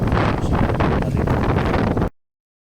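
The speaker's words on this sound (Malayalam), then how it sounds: "ബേസിക്കലി ഇപ്പം മഴ വീഴാൻ പോവാതെ കാരണം ഒത്തിരി കാറ്റൊക്കെ തുടങ്ങുന്നുണ്ട്." Strong wind buffets the microphone of a Samsung Galaxy Fold3 phone outdoors as rain approaches, a loud, steady rumbling roar with no talk that runs for about two seconds and then cuts off abruptly.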